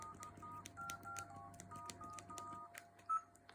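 Keypad tones from a Pantech Duo phone as a number is dialed, a quick series of short beeps at close range with a faint hum underneath and no voices.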